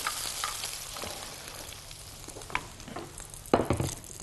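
Meat for Dawood Basha meatballs sizzles and fries steadily in hot oil in a pan, with a few sharper crackles and a scrape near the end.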